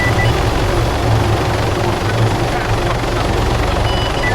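Aircraft engine roaring steadily during takeoff on runway 27 in the video game Arma 3, a loud continuous drone with a deep rotor-like pulsing that fills the whole clip.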